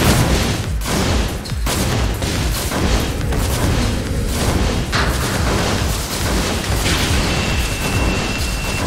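Enemy gunfire and explosions from the shoot-'em-up game R-Type Final 2 make a dense, loud and continuous barrage of blasts and booms with no pauses.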